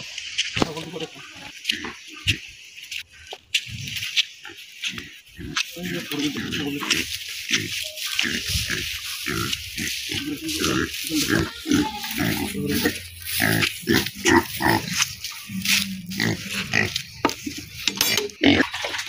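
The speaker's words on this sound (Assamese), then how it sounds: "গাহৰিকেইটা কিমান ধুনীয়াকৈ খাইছে আৰু খুব বঢ়িয়াকৈ খাই আছে" Pigs on a farm in Assam grunting and snuffling as they eat grain feed, with wet chomping and clattering against a feed trough, steady and close, with occasional voices nearby.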